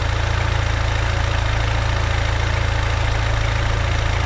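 A Renault Kangoo 1.5 dCi with its steering held at the end stop: the power steering pump strains under a loud, steady diesel idle, giving a constant close drone with no talking.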